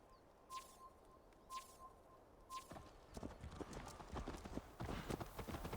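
Hooves clip-clop on the ground in Assassin's Creed Valhalla, a few spaced steps at first that quicken into a dense, busy trot, with faint birdsong and soft chimes behind.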